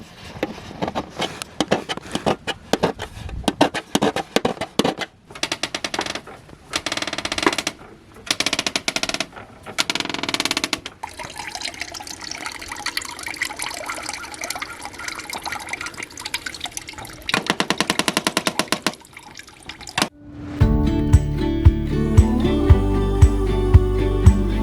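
Apples are crushed in a cider press as juice drips and splashes, heard as dense bursts of rapid clicks and trickling liquid that come and go, with music entering near the end.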